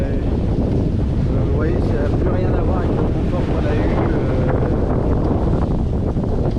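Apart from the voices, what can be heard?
wind and sea swell on a sailboat crossing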